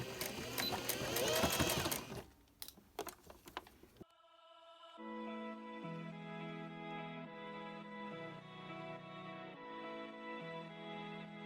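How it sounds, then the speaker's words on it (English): A sewing machine stitches a seam on a fleece blanket; louder handling noises come first, then a steady mechanical whirr runs on with faint changes in pitch. "we're going to sew a 1/2 inch seam all the way around, removing the pins as you go."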